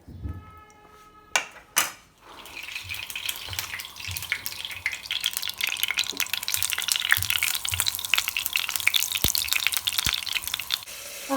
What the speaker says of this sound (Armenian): ստեղ ձուկը տապակվում է